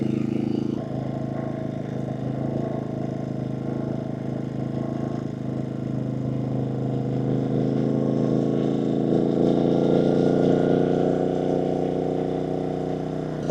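Gas generator running on eco throttle while powering an EcoFlow Delta 2 power station, a steady low engine hum that stays even throughout and swells slightly toward the end.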